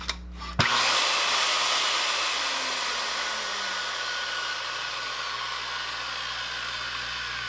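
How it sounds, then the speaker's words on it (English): Makita 5007F corded circular saw fired up with the blade on but cutting nothing: a click, then a loud steady motor whine that spins up and holds, running alone near the microphone. "We're going to just run it real quick without doing anything except just firing it up."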